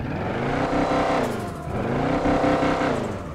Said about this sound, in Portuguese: olha o barulho do Chevette, ó.